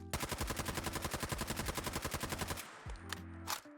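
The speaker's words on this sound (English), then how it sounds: "That was the weapon firing on its own, here is me actually trying to control said recoil." A retro AR rifle in Fallout 4 fires in a fast, even automatic burst of about twenty shots, then stops and leaves a few scattered mechanical clicks and rattles.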